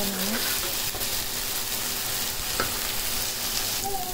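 Fish curry masala with capsicum sautés in a hot pan, a continuous dense sizzle with a few stirring scrapes and small clinks, close and fairly loud with no talking.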